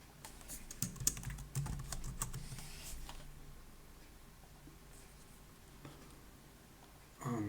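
Quiet typing on a computer keyboard, a burst of close key clicks at first that thins to a few scattered taps.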